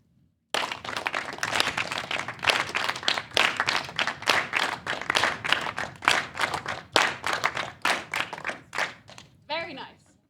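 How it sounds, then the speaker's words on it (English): An audience claps together in a repeated rhythmic pattern of twos and threes, sharp hand claps filling the room for about ten seconds before a brief voice at the end. "So you're clapping twice, and you're clapping 3 times."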